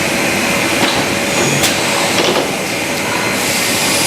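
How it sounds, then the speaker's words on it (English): A high-speed window frame welding machine runs in a factory, giving a loud steady mechanical hum and whir with a few faint clicks, with no talk. "so it's a high-speed welder as well"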